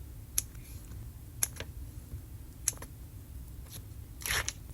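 Double-sided tape being handled and peeled while making a tri-fold card: several short sharp crackly ticks spaced about a second apart over a steady low room hum, ending in a longer rustling tear, close up with no talk.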